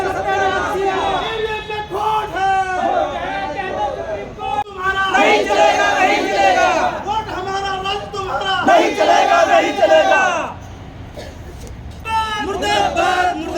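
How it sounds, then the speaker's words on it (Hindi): Protesters chant slogans outside a police station during a demonstration against EVMs, a crowd of voices rising and falling in loud, rhythmic call-and-response bursts nearby, with a brief lull before the chanting resumes. "वह पुलिस स्टेशन के बाहर नारेबाजी क्यों कर रहे हैं"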